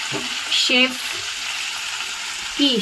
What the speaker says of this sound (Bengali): তেলে ভাজলাম, নুন হলুদ মাখিয়ে তেলে ভাজলাম, তেলে আগে ভাজা হচ্ছে